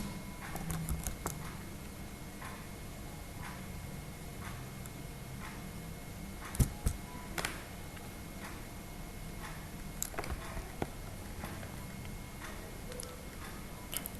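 Sparse, faint clicks of computer keyboard keys while HTML is typed in a code editor, with irregular single taps and a few sharper strikes over a quiet room hiss.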